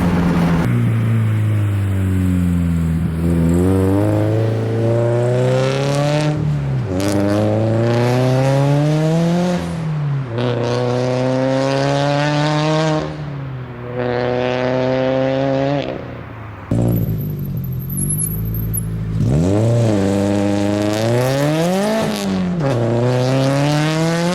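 A turbocharged Subaru FRS with a titanium straight-pipe exhaust pulls hard through repeated gear shifts, its loud raspy engine note rising in pitch and dropping again at each shift, with a turbo whistle near the end and no talking.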